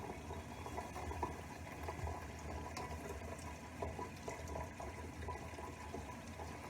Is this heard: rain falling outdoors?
no